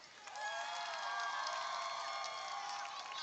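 A high school football crowd at Hardeeville versus Whale Branch cheers and shouts for the Warrior band, a sustained wash of voices swelling and holding at moderate distance.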